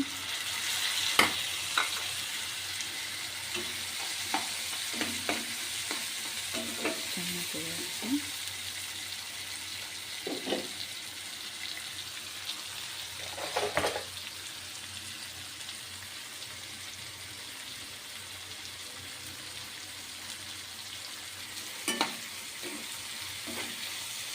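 Onion and tomato frying in oil for an aubergine curry, stirred in the pan: a low continuous sizzle with scattered scraping stirs and clinks, quiet and close.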